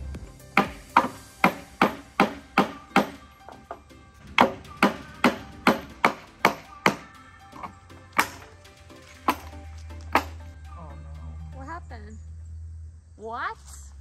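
Hammer blows knocking apart a wooden shelf for greenhouse shelving, a long series of sharp, close, evenly spaced whacks in two runs, then a few sparser hits, with a voice speaking near the end.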